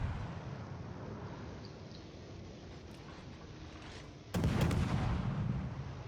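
Ship guns fire in the naval game World of Warships, a deep booming salvo rising abruptly over a steady low rumble of engine and sea noise, near and heavy with a long rolling tail.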